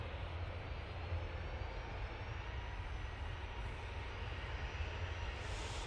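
A Ryanair jet airliner takes off from Manchester Airport, its engines producing a steady, loud broadband roar with heavy low rumble that holds throughout without letting up.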